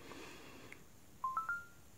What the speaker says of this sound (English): set a different kind of notification sound